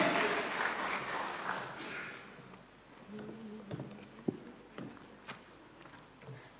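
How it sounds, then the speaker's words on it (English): Applause from the audience at a ten-year anniversary gathering, strongest at the start then thinning into scattered claps and a few sharp single claps, with light shuffling toward the end. "introduce our next round of applause for Salia"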